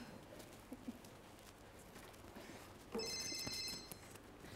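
A telephone rings in a home, its electronic ringtone pulsing in steady repeated bursts that start partway through and sit over quiet room noise and faint earlier knocks.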